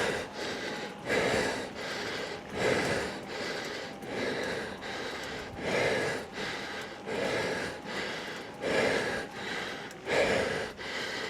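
Heavy, rhythmic breathing from a rider straining up a steep hill on a Skarper e-bike, with about ten loud, close gasping breaths at a steady pace. Nobody speaks.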